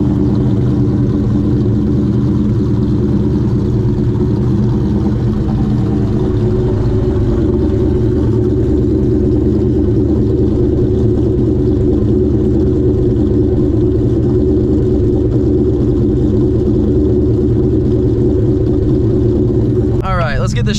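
A Ford Terminator Cobra breathes through a Borla Stinger exhaust, holding a loud, deep, steady engine rumble close by for about twenty seconds, with a brief sharp burst at the very end.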